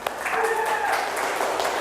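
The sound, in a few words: classroom applause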